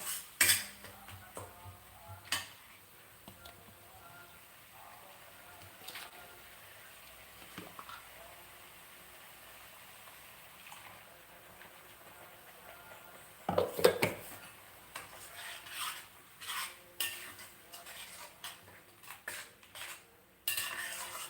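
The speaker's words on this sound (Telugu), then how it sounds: "ఇలాగా చేసి వేసి బాగా దీన్ని వేయించాలన్నమాట" A spoon scraping and clinking against a pan while potato and peas curry fries, quiet intermittent taps and stirs with a busier, louder cluster of scrapes toward the end.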